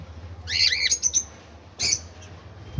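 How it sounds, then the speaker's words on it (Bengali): Pet cockatiels, including a white-face grey pair, and lovebirds kept on a home balcony give two bursts of shrill squawking, one longer run of harsh calls followed by a brief sharp squawk, close and fairly loud. "এইখানে এক জোড়া আছে হোয়াইট ফেস গ্রে ককাটেল"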